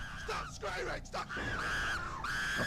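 Screaming from a Mario cartoon, several sharp shrieks and a long drawn-out wail in quick succession, loud and close with no other speech.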